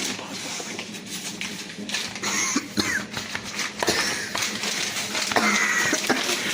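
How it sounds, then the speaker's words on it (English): A few short coughs and throat clearing, muffled and close, spread over a few seconds with soft shuffling noise in between. "the cameraman has a little bit of a cough in his throat"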